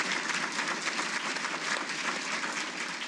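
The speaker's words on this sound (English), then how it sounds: "one more collective round of applause" Collective applause from a seated audience honoring inductees at a 2018 Hall of Fame ceremony, an even, moderately quiet patter of many hands clapping continuously for a few seconds, heard at some distance with no voices.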